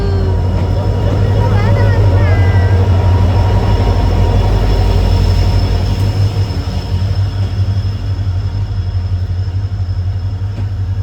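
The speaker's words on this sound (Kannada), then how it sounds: "ರೈಲು ಗಾಡಿ ಟ್ರೈನ್ ಬತ್ತಡು" Heavy low rumble of a train rolling into a station, loud and continuous, with a few brief squeals and faint voices in the background.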